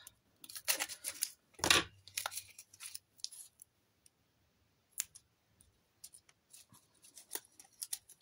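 Scissors snip through paper for a Christmas collage, close and crisp, with bursts of quick clicking cuts, a louder crunching cut, then a pause before scattered snips and paper rustles resume.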